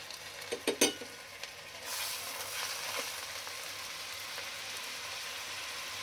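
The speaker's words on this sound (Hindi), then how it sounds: "थोड़ा थोड़ा दही डाल के मसाले को अच्छी तरह भून लेंगे" A few clinks of a utensil against a pan, then a steady, close sizzle of garlic, ginger, salt, chili and turmeric frying for mutton paya, with no talk.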